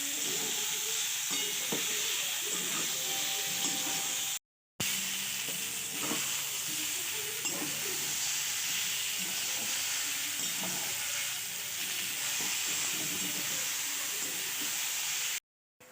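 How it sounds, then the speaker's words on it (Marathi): Methi and bottle gourd muthkale dumplings frying in a pan give a steady, close sizzle and hiss with occasional soft stirring, broken by one short dropout, with no talking. "पाच मिनिट आपण मस्त छानपैकी फ्राय करणार"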